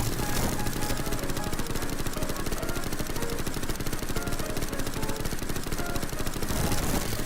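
Game turrets fire at each other in a dense, nonstop stream of rapid shots, loud and continuous like machine-gun fire, with no talk over it.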